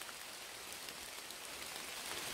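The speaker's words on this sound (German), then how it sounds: "Oh, hört ihr, wie das regnet?" Rain falls steadily outside an abandoned former air munitions facility, heard as a faint, even hiss of drops without any voices.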